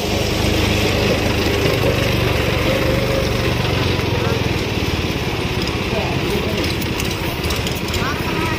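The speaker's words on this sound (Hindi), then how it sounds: "ये है ट्रैक्टर, कितना बढ़िया ट्रैक्टर है" A tractor engine runs with a steady, loud droning hum for the whole stretch, while a person talks over it.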